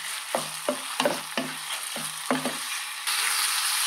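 Chicken pieces for jalfrezi fry in a pan and get stirred, giving about seven sharp scraping strokes over a soft sizzle, which swells into a brighter, louder hiss near the end.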